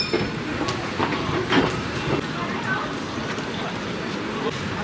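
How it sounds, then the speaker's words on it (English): A train rolls into a London station with a continuous loud rumble and faint rhythmic clacking under a busy, echoing platform din, and people talk throughout. "old-fashioned train station as pictured in Harry Potter"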